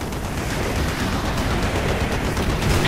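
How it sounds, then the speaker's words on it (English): Dense, continuous anti-aircraft fire roars from a ship's deck in Call of Duty: Black Ops, a loud, steady barrage of overlapping shots with no gaps or voices. "Taking AAA fire from the deck!"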